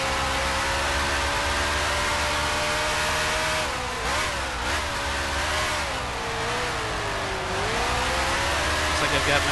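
Race car engine in Grand Prix Legends, a steady loud drone with its pitch dipping and rising as the car brakes, shifts down and accelerates through a bend, with the whine continuing throughout.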